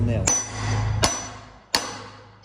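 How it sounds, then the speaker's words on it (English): One hammer strikes another that is set against a headless nail in reclaimed wood, giving three sharp metallic clanks spaced under a second apart, each ringing briefly, with a low hum beneath. "I'm gonna hit this onto the nail with my other hammer"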